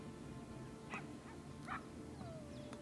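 Wolves in a zoo-building video game give a couple of brief, quiet barks and yips, widely spaced over steady ambient game noise, with a faint whine near the end.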